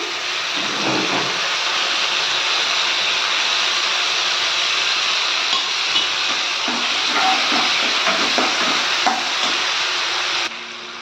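Onions sizzle steadily in hot oil, a loud continuous hiss with occasional stirring clatters.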